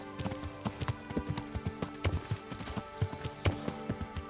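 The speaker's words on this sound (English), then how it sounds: "I was like, I heard a horse, but it was my horse." A horse clip-clops in the medieval video game Kingdom Come, a steady run of distinct hoofbeats at moderate volume, nearly alone.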